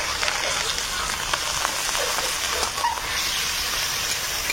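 Crabs simmering in a pan (kadai) with a little oil, water, salt and turmeric, giving a steady close bubbling sizzle throughout with no voices.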